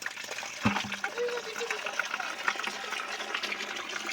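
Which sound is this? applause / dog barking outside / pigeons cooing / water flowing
water flowing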